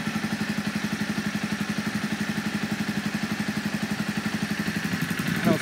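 Honda CB300F motorcycle fitted with a Scorpion exhaust and a high-compression piston, idling close by with a fast, even, pulsing thump that stays steady throughout and lifts slightly at the very end.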